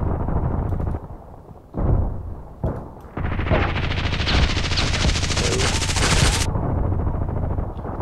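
Grenade blasts and gunfire in the Contract Wars shooter game, a loud, dense barrage of bursts and booms that swells into a sustained roar for several seconds before easing off.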